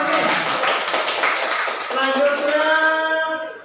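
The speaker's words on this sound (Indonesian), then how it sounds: "Ya, tepuk tangan guru ini." A group claps for a teacher in a school gathering, a burst of quick, close applause that gives way to voices speaking and cheering.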